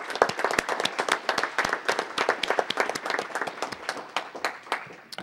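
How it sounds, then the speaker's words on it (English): Applause from a city council meeting audience, a steady patter of many hands clapping close and loud for several seconds, with no talk over it. "let's please just give him a round of applause"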